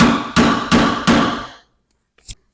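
Four sharp metal taps strike a Toyota Tacoma hood strut bracket to make an indentation, evenly spaced and ringing briefly, followed by a short quiet and a faint small knock.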